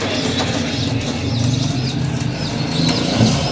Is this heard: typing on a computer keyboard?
no